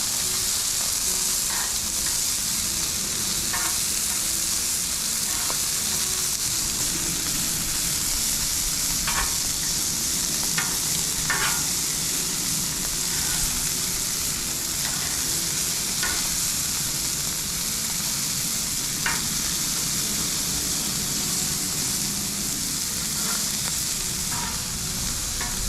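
Scallops and garlic sear in melted butter on a Blackstone griddle, a steady close sizzle and crackle that runs throughout with scattered sharper pops and no voices.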